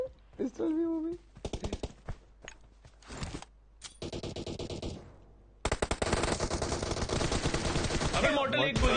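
Rapid automatic gunfire in a multiplayer team deathmatch shooter, bursts of machine-gun fire with short gaps then a long continuous stretch, loud and close, with a voice calling out briefly at the start.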